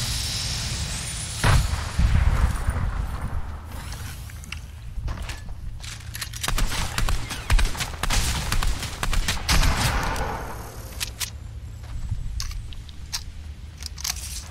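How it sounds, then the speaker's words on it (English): In a video game, a grenade explosion goes off amid gunfire, with repeated booms and sharp shots over shuffling footsteps, loud and close throughout. "Eat my grenade."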